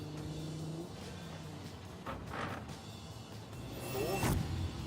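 Alfa Romeo GTV6 engine in a racing video game, revving and accelerating through gears with rising surges and a tire-squeal burst near the end, heard at moderate level.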